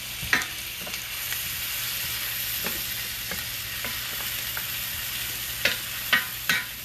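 Onion fries in a pan beside rubbed pork chops with a steady, moderate sizzle. Occasional soft taps of stirring come through, then a few louder scrapes near the end, with no talking.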